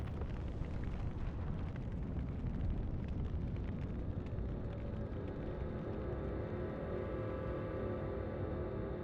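A dense, roaring fire eruption unleashed by a boss in Elden Ring rumbles continuously and loudly, a thick low-heavy wash of burning and crackling with no voices.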